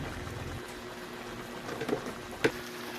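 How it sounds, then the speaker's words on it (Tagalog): A pot of vegetable stew bubbles at a steady simmer, with a soft continuous boil and a couple of brief louder pops near the end, no voices. "Dahil kumulo na siya ng kumulo, ilagay na natin ang gulay."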